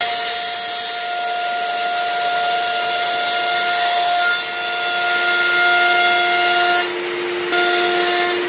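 A power tool cuts a slot into a Blackwood hardwood base, giving a steady, loud, high whine that holds for several seconds with two brief dips in pitch and strength.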